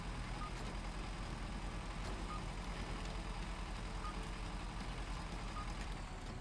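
Proximity beeps sound near a dig location in the Expeditions game, a faint steady pattern of beeps set over a constant noisy rumble of background sound.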